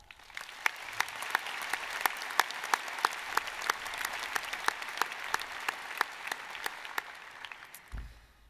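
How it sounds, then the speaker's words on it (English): Commencement crowd at NC State applauding graduates' families, friends, faculty and staff: steady, fairly distant clapping from a large audience with sharp individual claps standing out, continuing evenly before fading at the close. "let's give them a round of applause"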